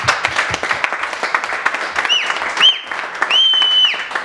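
Audience at a Jackie Robinson Fortitude Award speech bursting into loud, sustained applause and clapping, with some cheering and whistles rising over the crowd.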